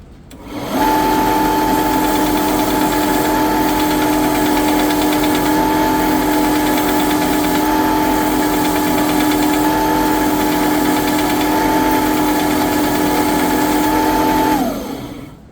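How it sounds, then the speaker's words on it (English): A linisher sanding down the thread on a plastic irrigation pipe, a loud continuous motor whine with a steady abrasive hum held for about fourteen seconds before winding down, no talking. "So I'll spin that down a wee bit more on the linisher"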